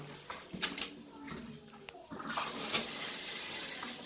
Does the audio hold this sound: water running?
yes